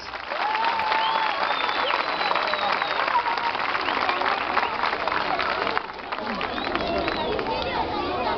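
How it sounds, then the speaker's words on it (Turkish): Audience applause at a live stage performance, sustained clapping mixed with crowd chatter and children's voices, dipping briefly near the end before continuing. "Makedonya için kocaman bir alkış."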